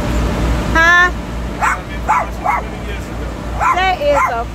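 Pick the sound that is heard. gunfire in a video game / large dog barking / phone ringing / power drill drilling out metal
large dog barking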